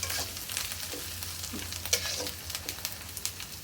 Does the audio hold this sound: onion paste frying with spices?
yes